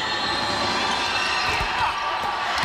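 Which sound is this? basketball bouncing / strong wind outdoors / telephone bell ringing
basketball bouncing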